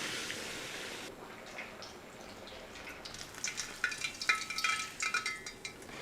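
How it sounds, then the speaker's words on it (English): Oil crackles and sizzles steadily as chicken fries in preheated oil for Hat Yai fried chicken, the popping growing denser and louder toward the end, with no voices. "Now I'm going to fry the chicken in some preheated oil."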